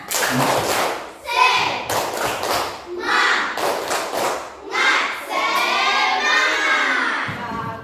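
Schoolchildren in a classroom perform a rhythmic spirit clap chant, bursts of unison clapping and shouted syllables alternating in a steady pattern, loud and close, ending in a sustained group shout.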